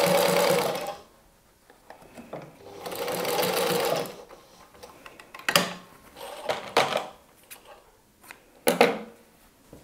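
A sewing machine stitches a long seam on a fabric pumpkin basket for Halloween decor, running in a long steady burst, then a second, followed by shorter stop-start runs and small clicks.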